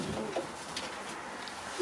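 Soft cooing of homing pigeons in a loft, a low murmuring call under steady background noise, faint and brief.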